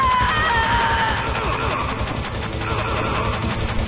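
Rapid gunfire from the Metal Gear Solid video game, dense bursts of shots that run through the whole few seconds, mixed with game sounds and a voice talking.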